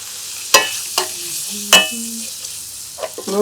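Spice paste of ginger, garlic, cumin and turmeric cooks in a pan, mostly heard as sharp, loud spoon knocks and scrapes against the pan at irregular intervals over a soft frying hiss.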